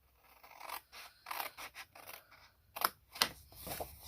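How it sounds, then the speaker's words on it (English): Scissors snip through card pieces for a triangle treat box in a series of close, crisp cuts with short pauses between them, scraping blade sounds and no talk. "I'm going to cut away both of these pieces."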